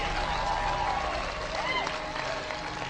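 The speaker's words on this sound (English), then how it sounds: "Get old man a round of applause." Audience applause at a live motivational speech event: a steady, dense wash of clapping from a large crowd, sustained at even loudness for the whole stretch.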